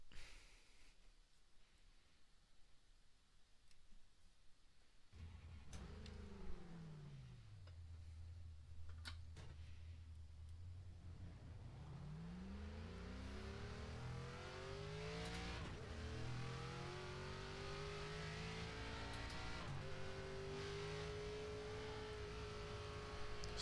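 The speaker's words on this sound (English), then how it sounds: "Just warm up the tires here real quick." A race car in a racing video game during ARCA qualifying at Phoenix Raceway, its engine revving and droning with rising and falling pitch sweeps, building to a sustained high-speed whine with occasional tire noise.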